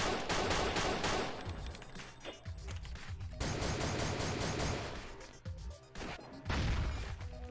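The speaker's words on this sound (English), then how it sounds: "we've got ourselves a mortar" Dense bursts of heavy explosive fire from a mortar in the MADNESS: Project Nexus arena, loud and rapid, with crashing impacts layered over one another and almost no pause.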